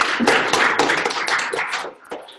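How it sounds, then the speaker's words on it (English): A small lecture-room audience gives a brief burst of clapping: dense, irregular hand claps up close for about two seconds, then thinning out. "Give them a big round of applause."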